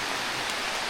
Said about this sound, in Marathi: बघा पावसाला जोरदार सुरुवात झाली आहे